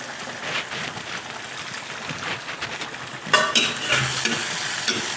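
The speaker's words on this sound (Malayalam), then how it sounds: "ഞാൻ ഇത് ഇപ്പുറത്തെ ചട്ടിയിൽ കുറച്ച് വെളിച്ചെണ്ണ ഒഴിച്ചിട്ടാ ഞാൻ ഉള്ളി ഇവിടെ ചെറിയതായിട്ട് അരിഞ്ഞു വെച്ചിട്ടുണ്ട്." Chopped onions frying in coconut oil in a pan for a Kerala stingray curry, a steady close sizzle with stirring scrapes that grow louder and more crackly partway through.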